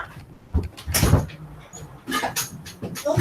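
A house door is opened to let a cat out: a few short clunks, rattles and scrapes from the handle and frame, close by, with faint background voice.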